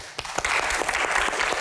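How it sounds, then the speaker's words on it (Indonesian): A studio audience at a comedy-style Q&A show breaks into quick, lively applause, a short burst of brisk clapping heard up close. "Kenapa tepuk tangan Bang Hensat?"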